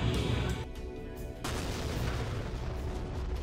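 A dense, rumbling explosion roar from the combat flight simulator DCS World, loud and broadband throughout, with a brief dip and a fresh surge of blast noise midway.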